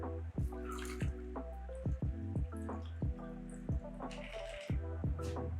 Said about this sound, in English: So now we can pour the cocktail over the champagne.